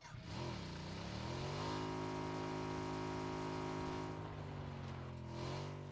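Motorbike engine revving steadily in an online multiplayer shooter match, a sustained loud mechanical drone with rising and falling pitch lasting several seconds, no speech over it.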